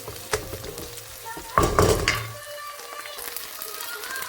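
Garlic and ginger paste fries in a pan for a homemade chicken dopiaza. A soft sizzle is heard with a few utensil scrapes, and one louder burst of frying near the middle fades back to a quiet hiss.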